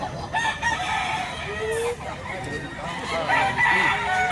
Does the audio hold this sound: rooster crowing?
yes